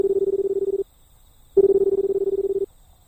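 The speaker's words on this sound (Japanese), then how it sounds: "手がかりになる番号知らないから、適当に電話してみる作戦だぜ" A video game public phone sounds two steady ringback tones, each close and lasting about a second, separated by a short pause with no voices.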